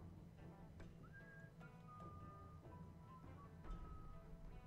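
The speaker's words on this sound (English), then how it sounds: "I hear whistling" An enemy guard whistles a tune in the stealth game Clandestine, a thin, wavering melody of held notes drifting over a low background hum, steady and moderately faint with no talk over it.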